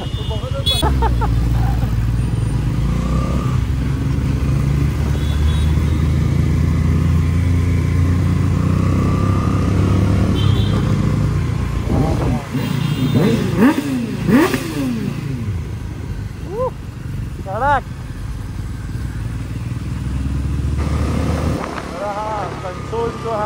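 A 2024 Bajaj Pulsar NS400Z motorcycle runs with a loud, continuous engine drone and repeated rising revs while riding, heard under people talking throughout.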